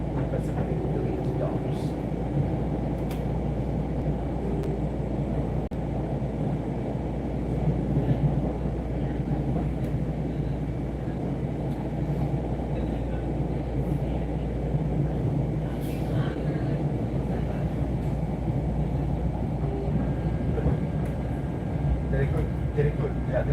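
A New York subway train rides through Harlem's 125th Street station with a steady, loud rumble and rattle of wheels on track. The sound holds constant throughout, with faint occasional clanks above the low drone.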